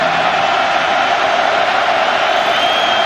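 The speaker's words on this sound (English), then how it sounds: "Oregon State crowd getting into this." Oregon State home football crowd roaring in a steady, dense wall of cheering at a 2006 game against Oregon, loud and continuous throughout with no distinct voices standing out.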